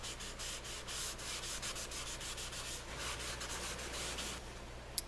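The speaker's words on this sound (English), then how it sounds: "I'm going to go in with a napkin, my trusty napkin, and blend that all in." A napkin rubs across a pencil drawing to blend it, a quick run of close, soft, rhythmic scrubbing strokes on paper, heard on its own.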